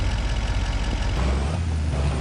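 A truck in the farming game Farming Simulator 25 gives a steady, loud broadband air-brake hiss over a low engine rumble that deepens slightly partway through.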